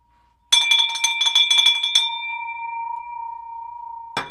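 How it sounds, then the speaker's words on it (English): A handbell is rung in celebration during a live real-estate broadcast. It gives a bright, clanging burst of rapid strikes close to the microphone, then a long ringing decay, and one more short ring comes at the very end. "I'm ringing the bell for that."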